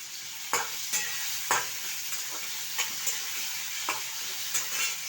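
Potatoes fry in oil with garlic ginger paste, a steady close sizzle broken by repeated scraping stirs of a spoon at irregular intervals.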